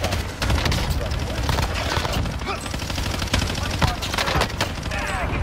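Airstrike explosions in the video game Warzone after a target is marked, dense continuous rumbling blasts and rapid impacts filling the whole stretch, loud and close, with a voice talking over them.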